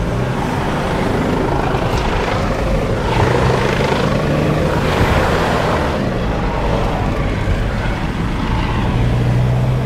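A helicopter hovers above a garage at a barn build site as concrete panels arrive, producing a loud, continuous rotor roar with a rhythmic chopping throb that fills the scene throughout, with no talk.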